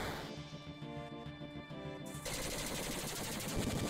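Automatic gunfire from the Final Fantasy 7 video game, a dense rapid stream of shots that grows louder and brighter halfway through and carries on steadily to the end.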